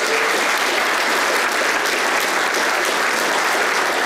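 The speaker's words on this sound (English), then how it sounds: "Give them a round of applause." A round of applause from a university audience at a spring welcome-back event: loud, dense, continuous clapping from a large crowd, sustained at full level from start to finish.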